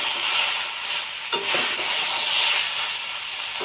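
Prawn curry being stirred and fried in a pan hisses with a loud, steady sizzle, broken by a single sharp scrape of the spoon, with no talking.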